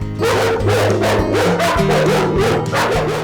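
Several dogs at a dog farm bark loudly and close by in a rapid repeated run, with yips and a whimpering edge mixed in and barks overlapping throughout.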